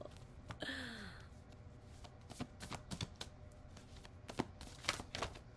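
Oversized playing cards are shuffled by hand in a quiet room, giving a brief riffling flutter followed by a series of soft irregular slaps and snaps.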